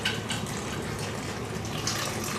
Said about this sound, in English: So Caitlin's putting in the warm milk.